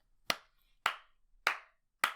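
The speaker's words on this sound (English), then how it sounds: "You can't hear what I'm saying because I'm clapping." Four sharp, loud hand claps spaced about half a second apart, each ringing out briefly, with silence between and no talking.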